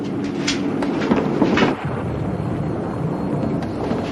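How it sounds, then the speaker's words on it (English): A rainstorm with rolling thunder, steady broadband hiss of rain and low rumbles swelling and fading throughout, loud and continuous with no voices. "Is that really rain?"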